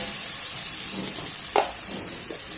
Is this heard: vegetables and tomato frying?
yes